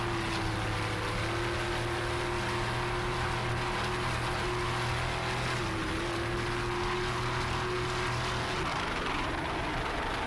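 A racing powerboat engine with an engine problem drones steadily at moderate distance during the 2005 Miami Grand Prix, a sustained hum with a slight shift in pitch partway through.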